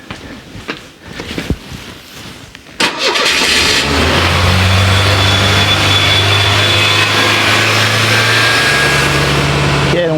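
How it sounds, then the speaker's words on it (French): A Ford Mustang with a poor idle cranks over briefly, then catches and settles into a loud, steady high idle above 2000 rpm, its engine drone running unbroken to the end. "on démarre comme ça, on regarde ce que ça donne"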